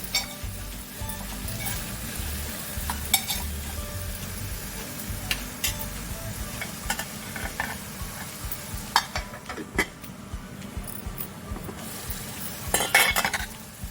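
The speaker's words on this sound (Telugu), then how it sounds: "ఇప్పుడు మూత తీసి కలుపు కలుపుతున్నానండి" Bottle gourd boondi curry cooking in oil, stirred with a spoon: steady sizzle under rhythmic scraping and metal clinks against the pan, with a burst of louder clattering near the end.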